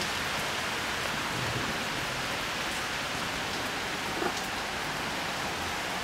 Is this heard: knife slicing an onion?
no